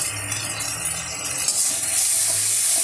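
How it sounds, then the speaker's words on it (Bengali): Tomato fries in a hot pan with a steady, broad sizzling hiss that grows louder and brighter halfway through, with no talking. "টমেটোটা আমার ভাজা হয়ে গেছে"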